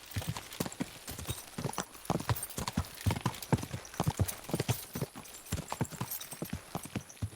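Horse hooves clip-clopping in the medieval video game Kingdom Come: Deliverance II, a steady, close, rhythmic walking gait with crisp hoof strikes throughout, and a faint whinny at one point.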